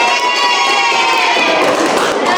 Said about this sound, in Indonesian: Tepuk tangan untuk kelompok saya.